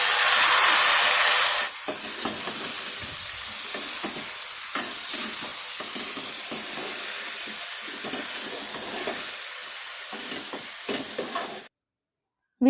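Steady oil sizzle of brinjal frying in a pan for kara kulambu, with occasional stirring scrapes, continuing for several seconds before cutting to near silence.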